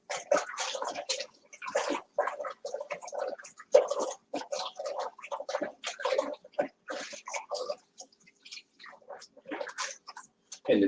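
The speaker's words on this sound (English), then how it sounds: "let me wash this pot here" Running water and scrubbing while washing a pot in a home kitchen, a close, irregular series of splashes, squishes and clatters in uneven bursts with short pauses, heard alone without talking.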